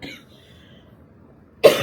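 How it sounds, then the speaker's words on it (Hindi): A woman who is still recovering from the flu and a cold coughs, with a short, loud burst of coughing near the end that follows a quiet stretch and a faint breath at the start. "खांसी अभी भी है।"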